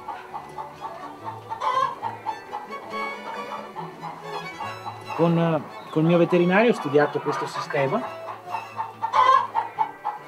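Grise hens cluck in a henhouse, with soft clucks and a few louder drawn-out squawking calls rising in the middle, while a person talks calmly over them for most of the stretch.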